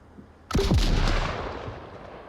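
A single heavy gunshot in a competitive shooter video game match, a loud close boom with a deep thump that rings out and fades over about two seconds.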